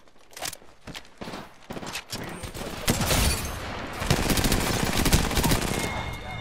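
Sentinel sniper rifle and RE45 pistol fire in Apex Legends: scattered sharp shots early on build into a loud, continuous barrage of rapid gunfire with footsteps mixed in.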